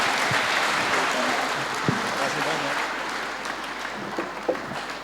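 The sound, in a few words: audience applause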